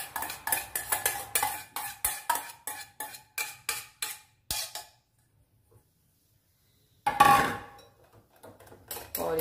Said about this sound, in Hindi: now we need to mix our this cream in to our this mixture